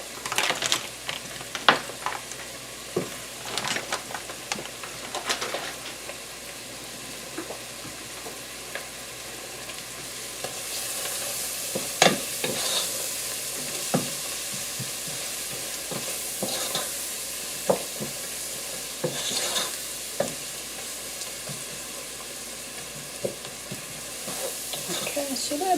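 Butter and sliced kielbasa sizzle in a pan while being stirred, a steady frying hiss broken by scraping and clicking utensil strokes, close and continuous.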